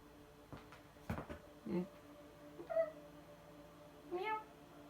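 A house cat gives several soft meows spread across a quiet indoor moment, with faint knocks and rustles between the calls.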